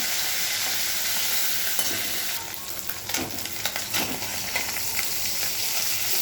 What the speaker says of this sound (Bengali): মোরলা মাছগুলো ভাজা হয়ে গেছে,